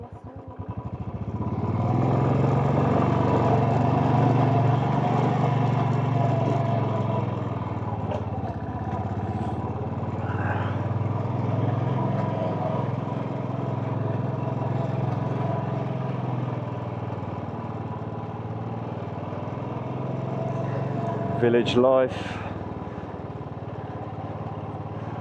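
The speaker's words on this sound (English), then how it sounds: "I don't think you could ever get bored of that engine noise just thumping away." A Royal Enfield motorcycle engine thumps steadily and loudly throughout, with a brief voice near the start and a short high squeal near the end.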